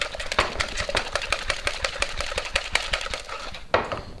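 Cream is whisked by hand in a bowl for a chocolate trifle, a fast, steady rhythm of metallic clicks and taps close by, with no talking.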